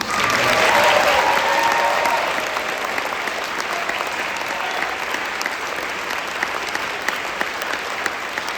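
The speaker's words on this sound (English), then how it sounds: "Let's have a round of applause for these 3." An audience at a school spring band concert applauds, a dense wash of clapping that starts loudest and settles into a steady, slightly softer patter with scattered sharper claps.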